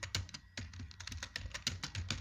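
Rapid, uneven clatter of keys on a computer keyboard, close and fairly quiet, with brief pauses between bursts of keystrokes and no speech.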